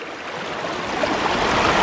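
Water rushes steadily around a 3D printed Archimedes screw generator, making a continuous close hiss and gurgle with no voices.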